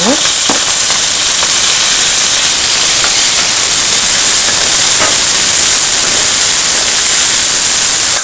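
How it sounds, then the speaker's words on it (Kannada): Chopped tomatoes hit hot oil in a pan while cooking an eggplant dish, giving a loud, continuous, close sizzling hiss that fills the whole stretch, with no talking. "ಕಟ್ ಮಾಡಿ ಇಟ್ಕೊಂಡಿರೋ ಟೊಮೆಟೊನ ಆ್ಯಡ್ ಮಾಡ್ತಾ ಇದ್ದೀನಿ"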